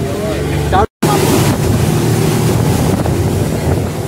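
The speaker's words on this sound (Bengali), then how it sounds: "আবার বোট ছেড়েছে, চলছি, বোট ছেড়ে দিয়েছে" A tour boat moves through water in a Langkawi mangrove forest, with loud steady engine rumble and rushing water mixed with heavy wind buffeting, briefly cut out early on.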